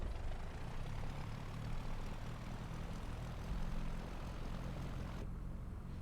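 Steady propeller drone of a simulated Cessna 172 floatplane engine in X-Plane 11, a continuous close hum holding level throughout with no voices.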